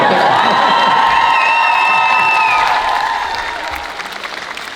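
A large Comic Con crowd applauds and cheers loudly and steadily, with whoops and shouts riding on top before the clapping slowly fades.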